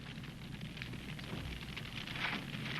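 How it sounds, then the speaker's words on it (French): A fire spreading through a building gives a dense, steady crackle and hiss, faint and continuous like distant burning, with no voices over it. "On dirait que ça sent la fumée. Oui, et vous entendez ce crépitement?"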